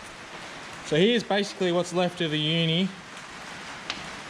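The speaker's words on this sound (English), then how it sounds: "you'll have to excuse the noise from the rain" Steady rain hisses in the background as someone speaks close to the microphone, the patter continuing softly after he stops.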